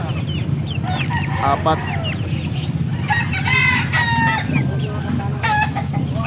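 Chickens at a Philippine market, hens with chicks, cluck and squawk close by in repeated overlapping bursts over a steady low hum, with a rooster-like call among them and a brief voice speaking.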